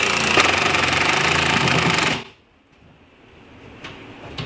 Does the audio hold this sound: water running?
no